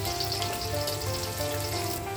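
Chopped onion, green chili and garlic frying with cumin seeds in oil, a dense, steady sizzle close up and continuous with no voices.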